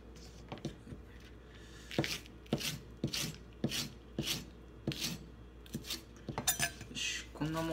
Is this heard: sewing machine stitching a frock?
no